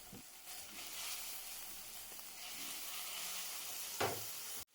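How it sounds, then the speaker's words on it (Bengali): Chicken is tossed in sauce over a high flame, a loud, continuous sizzle with a few scraping stirs and a brief clank near the end before it cuts off. "সসটা দিয়ে আরও 1 মিনিট মতো চিকেনটাকে কুইক টস করে নেব হাই ফ্লেমেই।"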